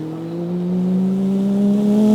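A mimic voices a car approaching and passing with a steady, buzzing engine drone that swells slowly in loudness and pitch, performed alone without talk.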